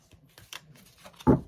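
Large oracle cards shuffled by hand: soft papery rustles and light slides build to one louder riffling burst near the end, close and alone.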